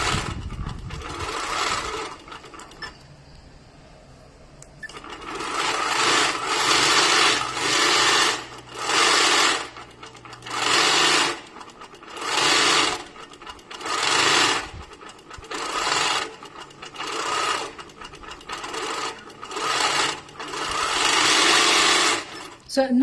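A Pro-Stitcher quilting machine stitches in repeated loud whirring bursts separated by short pauses, with a quieter stretch near the start. A voice talks faintly in places.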